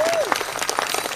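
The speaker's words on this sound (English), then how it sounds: "How about paying them off with a round of applause?" Applause from a live audience after a chicken-themed dance routine, a dense steady patter of clapping through the brief moment, with a faint whistle rising and falling at the start.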